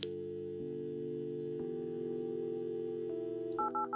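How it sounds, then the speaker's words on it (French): A telephone in the Kathy Rain video game plays steady dial tones that shift pitch in short steps as a number is dialed, ending in quick beeping tones. "Attends, je vais appeler la chambre du dortoir pour voir."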